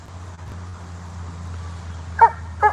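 A dog barks twice near the end, short sharp yaps close by over a steady low hum on moving day.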